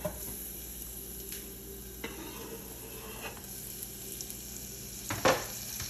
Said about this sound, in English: now that our butter is melted, I'm gonna go ahead and put the shallot and the lemon zest in with it.